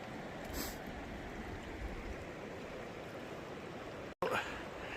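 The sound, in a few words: creek water flowing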